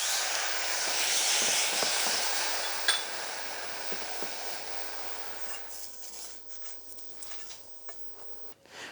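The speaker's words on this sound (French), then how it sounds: "nous allons mouiller avec le jus d'orange que nous avons préalablement pressé" Freshly squeezed orange juice is poured into a hot pan after vinegar has reduced, for a peppered duck breast sauce, giving a strong, steady hiss that gradually fades into quieter, scattered crackles.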